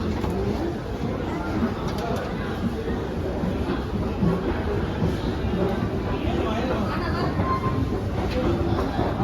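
A first class AC passenger train at a station gives a steady, dense rumble and clatter throughout, with people talking underneath.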